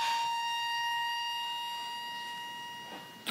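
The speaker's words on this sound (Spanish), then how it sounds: "¿Una ambulancia?" A steady wailing ambulance siren holds its pitch throughout, moderately loud and slightly distant, with faint background noise and no talking.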